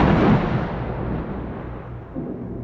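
Thunder from a lightning storm in a horror story, a loud broad rumble that rolls and slowly fades over a few seconds, heard alone without speech.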